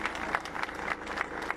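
Crowd clapping at a Minority Day rally outside a press club in Islamabad, a dense and steady round of applause heard from a moderate distance across the whole stretch, with no voices standing out.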